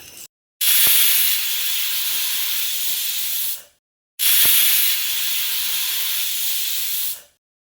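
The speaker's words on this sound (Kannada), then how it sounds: "ಲಿಡ್ ಕ್ಲೋಸ್ ಮಾಡಿ 2 ವಿಷಲ್ ಕೂಗಿಸ್ಕೊಳ್ತಾ ಇದ್ದೀನಿ" A pressure cooker cooking kushka rice lets out two long, loud hissing steam whistles, each lasting about three seconds and separated by a short pause.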